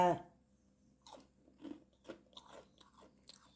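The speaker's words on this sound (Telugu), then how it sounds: "ఇది దనిసగడ్డ వేయటానా కరకర సౌండ్ వస్తుంది." Crisp, small fried kajjikaya made with wheat flour and jowar flour are bitten and chewed close up, giving a series of sharp crunches, with a brief voice at the start.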